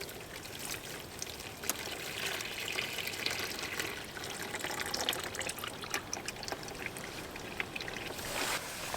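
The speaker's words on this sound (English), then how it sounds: "let's try out the washing up bowl. Some hot water here." Hot water pouring into a washing up bowl, a steady splashing stream that runs unbroken for several seconds with small trickling spatters and no talk.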